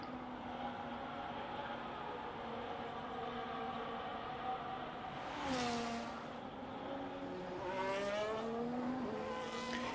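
A race car engine screams around the Canada circuit in a racing video game, holding a high steady whine with two rising-and-falling revving sweeps as it shifts and accelerates, loud and continuous, with no voices.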